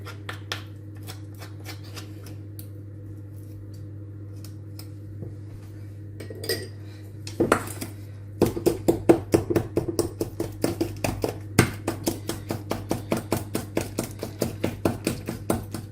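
A spoon mixes honey cake batter in a bowl, starting with a low steady hum and faint scraping, then settling into a run of quick, regular clinks and taps against the bowl that carry on to the end, with no talking.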